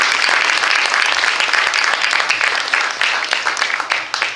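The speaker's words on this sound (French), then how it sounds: "Je tiens vraiment à vous applaudir." Conference audience applauding carnival organizers, a full burst of crowd clapping at strong level that thins into scattered individual claps toward the end.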